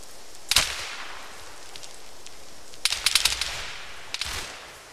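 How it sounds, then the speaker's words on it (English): Gunfire in the video game Breaking Point on the New Haven map: a single sharp crack, then a quick cluster of distant shots and a final pair, with quiet ambience between. "This guy's shooting over there on the other side of that."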